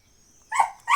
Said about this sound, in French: Arrête d'aboyer pour rien, le clébard